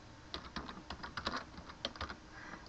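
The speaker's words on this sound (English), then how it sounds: "So I'll type in Pentecostal." Rapid typing on a computer keyboard while entering a search term into Google Maps, with clustered key clicks in an uneven rhythm, close and fairly quiet, no voices.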